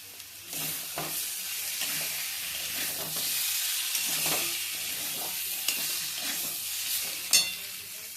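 Potatoes frying in a pan for an aloo curry as chilli powder goes in, a steady close sizzle broken by repeated scraping stirs and a sharp clink of the spatula near the end, with no talk.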